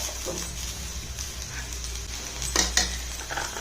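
Butter sizzling in a pan as it melts for paneer butter masala, a soft continuous frying crackle with occasional stirring scrapes and two sharper utensil knocks near the end, close and fairly quiet with no talk.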